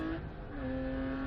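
A race car engine in the iRacing sim during an endurance race holds a high whine that dips and returns at a lower pitch as a gear change comes through, steady and loud throughout.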